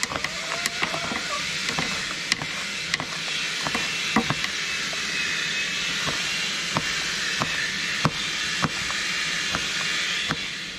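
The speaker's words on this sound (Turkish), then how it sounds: "Çoban işi olduğundan biraz büyük büyük doğrayacağım." A knife chops peppers on a cutting board for a shepherd-style chicken sauté, sharp regular knocks repeating every half second or so over a steady background hiss.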